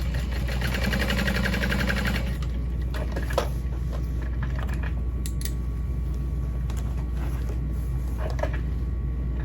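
A sewing machine runs in a fast rattling burst while basting backpack panels, then gives way to softer handling clicks and rustles of fabric, all close with no speech.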